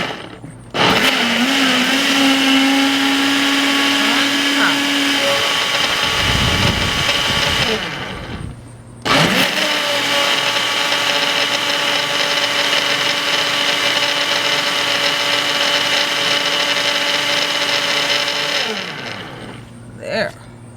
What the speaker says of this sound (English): we're gonna put it all inside the blender, and we're going to blend